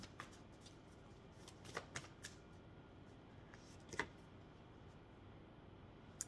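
Soft, close riffling of cards with scattered light clicks and taps, quiet and irregular, no voices.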